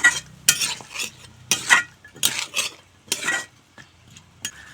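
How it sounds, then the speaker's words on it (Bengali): Cut potatoes stirred and fried with spices in a pan: a spatula scrapes and clanks against the metal in regular bursts over a soft sizzle, close up and without speech. "আলু দিয়ে এভাবে মশলার সাথে ভালো করে কষিয়ে নেব।"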